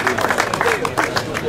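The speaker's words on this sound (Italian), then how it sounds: "Forza, facciamogli un applauso" A crowd at the 6th Slalom Curinghese 2021 applauds driver Antonino Miniaci. Clapping sounds amid crowd babble, with an announcer's voice audible over it.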